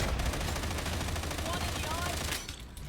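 Rapid gunfire from a Warhammer 40k Darktide firefight, dense and continuous bursts dominating the mix with game effects and faint voice underneath, easing off near the end.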